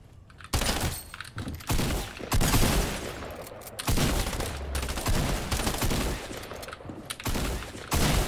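Rapid video-game gunfire, shotgun and automatic bursts, fills the scene in loud, dense volleys. The shots come in clusters with short gaps between them, close and punchy throughout.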